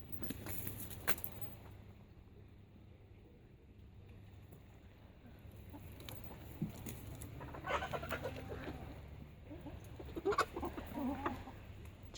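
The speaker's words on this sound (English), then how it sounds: "Chickens are having a bit of a squabble" Backyard hens, including a Light Sussex, squabble with faint, scattered clucks and squawks, growing busier and louder in the second half over a quiet outdoor background.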